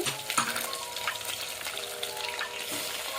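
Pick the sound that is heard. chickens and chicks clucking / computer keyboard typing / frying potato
frying potato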